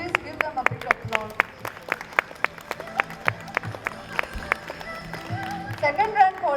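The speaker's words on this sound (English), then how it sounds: "Parents, please give them a big applause." Parents applauding school rank holders at a Republic Day celebration, moderate clapping with distinct individual claps that keep up over several seconds, with a voice audible in the background.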